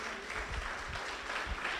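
A church congregation in Guayaquil applauds, producing a moderate, sustained wash of clapping hands with a few low thumps, heard at a middle distance without talk.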